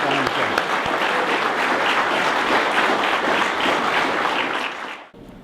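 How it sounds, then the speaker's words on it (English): A round of applause from the audience at a men's shed opening in Marysville: continuous, full clapping from a sizeable crowd that holds steady and then cuts off near the end. "I would like to ask for a round of applause for Mark"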